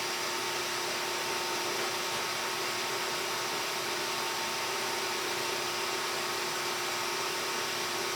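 An Ender-3 V3 SE 3D printer whirs with a steady, even fan-like hum while moving its head and heating the nozzle, quiet and unchanging throughout.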